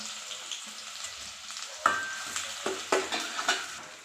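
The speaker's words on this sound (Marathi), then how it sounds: "मग टाकून घेऊया कांदा असा फ्राय करून घेऊयात आधी आपण" Chopped onion going into hot oil seasoned with asafoetida in a pan, crackling and sizzling with scattered sharp pops and stirring scrapes, close and moderately loud with no voices.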